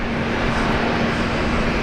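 A Boeing 787 Dreamliner on the runway at Brisbane Airport, heard as a loud, steady jet-engine roar with a faint constant hum underneath, and no voices.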